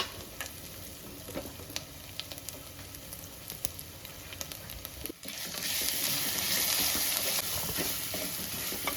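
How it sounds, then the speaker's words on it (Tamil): Garlic and ginger fry in hot oil with a soft crackle and stirring scrapes, the sizzle jumping to a louder, steady hiss partway through as the ingredients hit the pan. "இது எண்ணெயில் வணங்கும் போது நல்ல ஒரு மணம் வருங்க."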